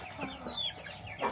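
Backyard chickens give a few soft, scattered clucks at moderate distance, with quiet rustling between the calls and one slightly louder cluck near the end.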